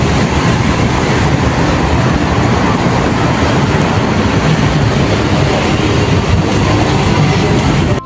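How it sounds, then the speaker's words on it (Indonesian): Loud, steady broadband rumble of an MRT metro train in Jakarta, continuous roar with rail noise throughout and no talk. "Saatnya saya naik MRT ya guys."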